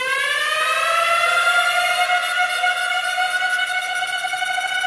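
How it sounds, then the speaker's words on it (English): A J Dilla-style siren effect in a beat wails with rising, sweeping harmonic tones that hold strong and steady throughout, with faint low percussion beneath. "But I added this J Dilla siren."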